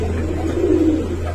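Giribaz pigeons coo in a low, steady, throaty murmur that swells briefly in the middle, close by over a constant low hum.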